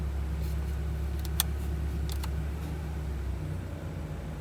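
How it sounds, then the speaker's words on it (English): A Honda Prelude with 113k miles, running flooded rich, idles with a steady low engine drone that sags as the motor strains toward stalling, heard close with no talk over it. "the strain of the motor is about to kill the engine"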